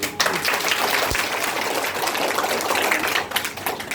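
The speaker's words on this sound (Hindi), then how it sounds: "तो अब आप लोग बजा दीजिए ताली" Children in a classroom clap after a storytelling lesson, a dense, steady patter of many small hands applauding together for about four seconds, fairly close and without talk.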